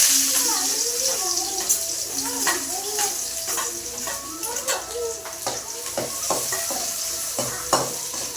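Onions tossed into hot oil with popped mustard seeds, sizzling while a utensil stirs and scrapes the pan in uneven strokes, close and continuous, with no voices.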